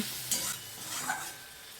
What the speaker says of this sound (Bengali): জল দিয়ে আবারও ভালো করে নাড়াচাড়া করে নিচ্ছি